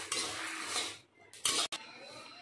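Roasted dried red chillies and spices scraped with a metal spoon from a pan onto a plate in a home kitchen, giving scraping and clinking metallic sounds in short bursts with a sharp clank near the end.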